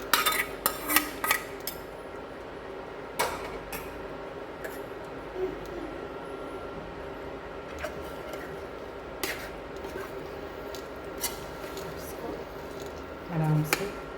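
Vegetables go into a pan of kadhai paneer and get stirred, with scattered clinks and scrapes of a utensil against the metal and soft sizzling, some clusters of sharp taps close up.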